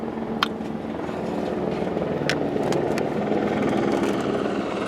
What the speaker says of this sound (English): Helicopter approaching for a buzz.